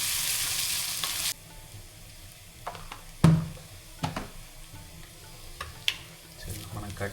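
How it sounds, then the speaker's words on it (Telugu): Onion pieces and ginger paste fry in hot oil. A bright, loud sizzle fades after a moment into a softer crackle, broken by several sharp scrapes and knocks from stirring. "అల్లం పేస్ట్ ఆయిల్లో కలిపేలాగా ముక్కలకి, ఆనియన్ ముక్కలన్నింటికి పట్టేటట్టు"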